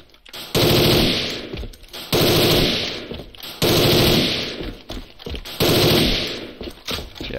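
Bursts of FA-MAS MK3 rifle fire in the A.V.A shooter game, four loud sustained automatic volleys separated by short pauses, with no talking over them.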